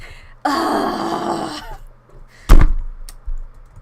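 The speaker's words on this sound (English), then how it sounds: "that was me angrily banging the bottle on the table" A bottle banged angrily on a table during a podcast recording: a groaning voice comes first, then one heavy, close thud and a smaller knock shortly after.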